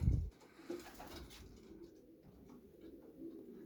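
Soft, low pigeon coos repeat quietly in a calm space at a national pigeon exhibition in Katowice, with a brief thump at the start.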